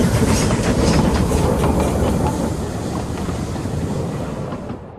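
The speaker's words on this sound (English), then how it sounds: "All he could do was watch the other trains rushing through the tunnel." Trains rush through a tunnel with a loud, continuous rumble and rhythmic clickety-clack of rail cars, roaring strongest at first and then easing slightly as the passing continues.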